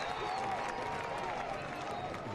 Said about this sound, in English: to the roar of the crowd